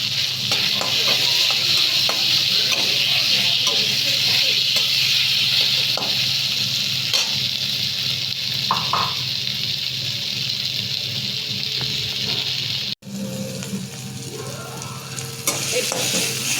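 Paneer with turmeric fries loudly in a pan in a close, continuous sizzle, with scattered clicks of stirring and one sharp knock near the end.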